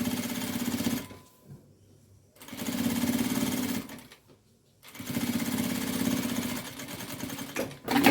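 A sewing machine stitches over an existing seam in steady buzzing runs, stopping twice for short pauses before resuming, close and clear with no talk.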